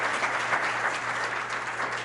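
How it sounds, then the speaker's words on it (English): An audience at a school awards presentation applauds steadily, producing a sustained even wash of many hands clapping with no speech over it. "Let's give all the awards, special awards presentation a nice round of applause."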